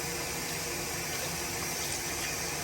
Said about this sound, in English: I'm just gonna put a little bit of water in there.